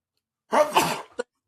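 A single close, sharp sneeze bursts out with a short trailing breath, followed by a brief catch of sound, in an otherwise quiet room.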